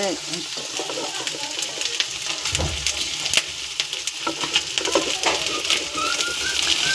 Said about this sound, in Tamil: இது நல்லாவே ஃப்ரையாக இருக்குது ஒரு சைடு